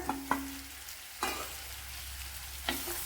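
Onions and tomato sautéing in a pan, a soft continuous sizzle with three or four scattered scrapes of a spoon, quiet and close, without talking.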